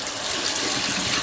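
Water runs and splashes steadily as rice is rinsed by hand in a sink to wash off the starch, a continuous close gushing flow with no talk.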